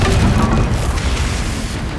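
Confringo fire spell blast in Hogwarts Legacy, a loud, dense explosive boom filling the whole short stretch, roaring and rumbling with no other sound.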